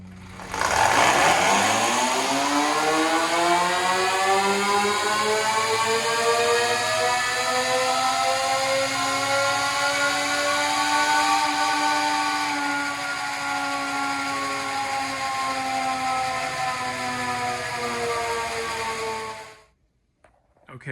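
Electric dirt bike running a dyno pull in rocket mode, a loud close motor whine rising steadily in pitch for about twelve seconds and then holding high before cutting off sharply near the end.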